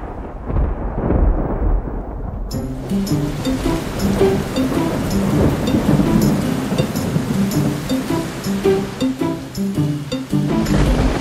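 Thunder and rain sound effect played at a school graduation day performance: a continuous loud roaring rumble of storm and rain, joined partway through by music that keeps going underneath.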